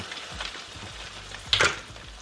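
Maryland lump crab cakes fry in a pan of oil with a dense, steady sizzle and crackle close by. A sharper burst of spattering rises near the end, and no one speaks.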